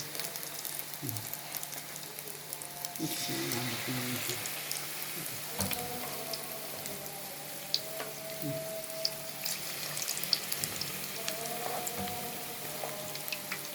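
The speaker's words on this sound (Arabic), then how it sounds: "الزيت يسخن، لازم يبقى الزيت كتير وسخن" Small cauliflower florets fry in plenty of hot oil, a steady crackling sizzle throughout with scattered pops, while someone talks over it.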